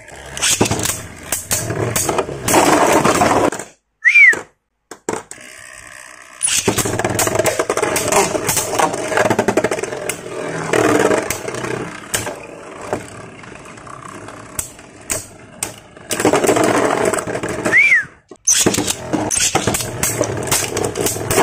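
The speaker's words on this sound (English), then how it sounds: "Let's do a test spin, test battle." A counterfeit MQ Red Savior Valkyrie spinning-top toy is launched for a test battle, giving a loud, steady whirring and grinding rattle with short silent gaps where it is relaunched.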